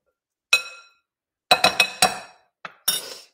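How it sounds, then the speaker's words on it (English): A glass bowl holding barley corn salad gives off a few sharp clinks as a utensil strikes it during stirring: one tap, then a quick cluster of four and two more, bright and close with silence between. "Let's stir it around."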